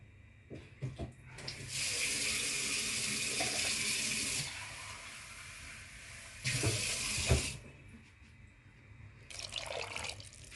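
Water pours from a cup into an Egyptian pea tagine holding minced meat and tomato sauce, in two splashing bursts a few seconds apart, close and steady.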